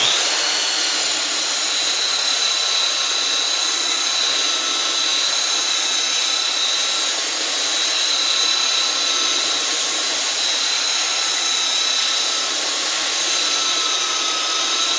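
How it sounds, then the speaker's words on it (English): A power sander works over a large sawn tree cross section, giving a steady, loud, unbroken high whine with a harsh abrasive hiss that holds level throughout, with no voices. "I want the sandpaper to do the work, and I'm going to turn it up so we can get this done as quick as possible."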